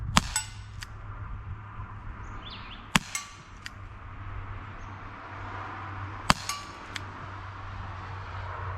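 A Crosman SNR .357 air rifle fires pellets at a still target outdoors: sharp, loud cracking reports, each a brief snap with a short ringing tail, spaced several seconds apart over a steady low background hum.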